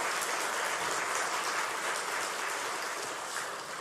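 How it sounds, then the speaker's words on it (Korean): Steady, full applause from a large church congregation, sustained throughout and fading slightly at the end. "다시 한번 박수 드릴까요?"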